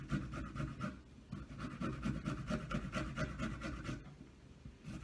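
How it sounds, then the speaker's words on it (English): Fresh ginger rubbed against a box grater in rapid rhythmic rasping strokes, close and steady, with a brief pause near the end before the scraping resumes. "And we just want to grate it down."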